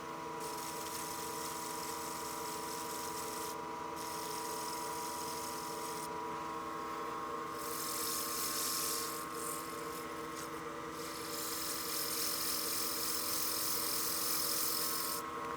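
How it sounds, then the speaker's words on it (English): Sandpaper hisses steadily against the spinning exterior of a turned wooden utility box on a lathe, over the machine's constant motor hum, with the rasp swelling and easing as pressure shifts. "I can go ahead and sand the exterior here"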